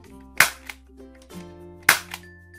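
An automatic PUBG-style toy gun firing soft water-bullet darts snaps off two sharp, loud shots about a second and a half apart, each followed by a short mechanical clack, with a steady motor hum beneath.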